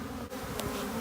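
Honey bees buzz steadily in an opened hive during a spring inspection, a close, dense drone with no voices.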